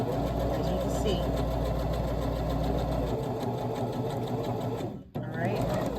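Sewing machine stitching a straight zigzag line along a half-inch seam, a steady close mechanical whir that runs continuously, with a brief break near the end before it resumes.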